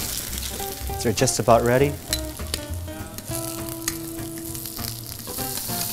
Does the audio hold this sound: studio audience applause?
no